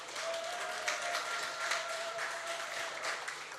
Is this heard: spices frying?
no